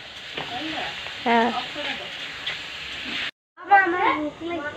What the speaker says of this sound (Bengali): এই যে মাটন রান্না করতেছি